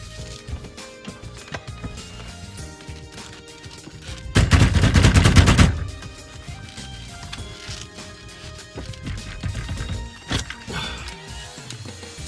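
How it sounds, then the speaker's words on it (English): Loud burst of rapid mallet blows hammering a steering wheel hub loose, a dense cluster of metallic whacks lasting over a second, followed by a few scattered single knocks amid faint background noise. "I'm going to be using mallets to try to vibrate this thing open."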